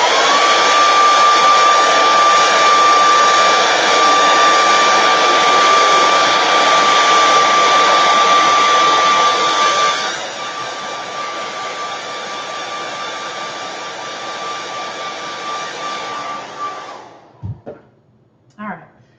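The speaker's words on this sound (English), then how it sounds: "So I'm gonna hit it with a hairdryer real quick" A hair dryer blows steadily at close range with a high whine, then shifts to a lower setting and clicks off near the end.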